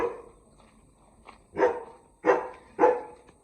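A dog barks nearby, a few sharp, loud barks spaced about half a second apart after a quieter opening, with no talking.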